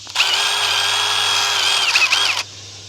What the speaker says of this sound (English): get my drill and a little bit larger bit and drill that out